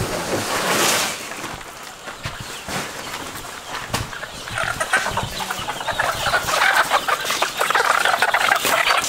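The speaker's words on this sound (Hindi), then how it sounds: "काफ़ी खूबसूरत मुर्गियाँ लग रही है और ये अंडे के लिए तैयार होंगी" Laying hens at a large egg poultry farm in Morbi, Gujarat cluck in a dense, continuous chorus of many birds close by, with overlapping calls building steadily and no voices.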